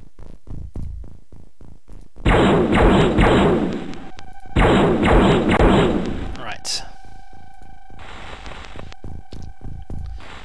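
A rocket launcher fires in the turn-based strategy game XCOM: Enemy Unknown. Two loud, roaring broadband blasts of a couple of seconds each ride over a steady beat of soft thumps, followed by a humming, ringing tail.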